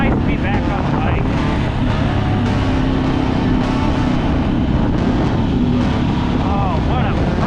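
A Janus motorcycle riding along on a ramble toward the dunes, its steady engine drone mixed with heavy wind rush across the microphone throughout.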